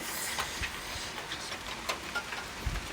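Rain mixed with hail falling during a strong May thunderstorm in Ille-et-Vilaine, a steady broadband hiss of drops with scattered sharper hits of hailstones striking surfaces, no voices.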